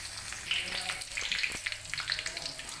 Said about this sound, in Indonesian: Ini bawangnya kita tumis dulu sampai harum, bawang merah dan bawang putih ya teman-teman.